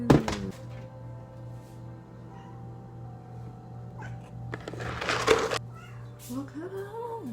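A hungry house cat meows in a kitchen at feeding time. A few soft thunks and a steady hum come first, then several drawn-out, rising and falling meows near the end, with a person's voice nearby.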